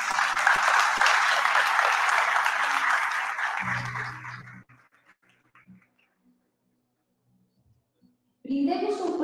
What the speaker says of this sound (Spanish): Brindemos un fuerte aplauso para los y las estudiantes destacados del segundo nivel